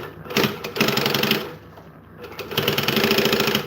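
A sewing machine stitches a 3/8-inch seam on a foam-lined bag, running loud and steady, easing off for a moment near the middle, then speeding up again, with no talk over it.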